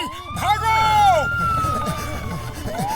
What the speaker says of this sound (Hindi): पुलिस का सायरन सुन के पैर अपने आप भाग चले